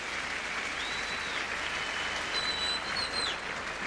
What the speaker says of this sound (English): this capacity crowd in Court Philippe Chatrier give both players a standing ovation